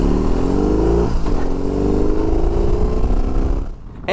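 A brand new BMW R18 B motorcycle cruises along a road in Germany, its big engine giving a loud, close, steady low rumble with shifting throttle tones and wind noise, easing off near the end.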